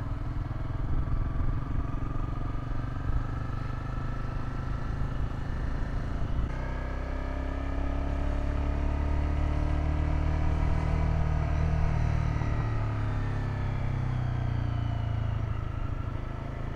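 A motorcycle cruising along a road on a beach run, its engine a steady drone with wind rush, the pitch shifting midway as gears change, continuous and fairly loud throughout with no talking.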